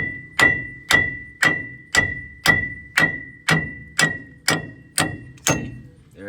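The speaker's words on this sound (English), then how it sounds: "grab a hammer and it should pop out" A hammer strikes a wheel stud to knock it out of a drum brake hub, ten evenly spaced sharp metallic blows with a ringing tone, close and clear with no talking.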